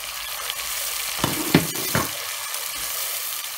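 Ginger, garlic and onion pastes going into hot oil for a Murray cod fish curry produce a close, steady sizzle, with a few sharp spoon taps and splatters in the middle.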